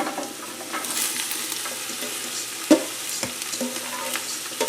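Vegetables dropped into hot oil in a soup pot for lentil soup, giving a steady broadband sizzle with stirring clatter and a couple of sharp knocks, close and alone with no talk.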